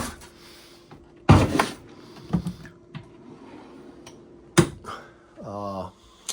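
Drawers in the kitchen of a 2025 Grand Design Imagine 2300MK travel trailer slide and thump shut in a few sharp, close knocks and rattles, followed by a brief voice near the end.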